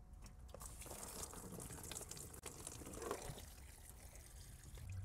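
Coolant drains from the cooling system of a 2013 Subaru Outback as a faint, steady trickle of liquid pouring throughout, close by and without speech.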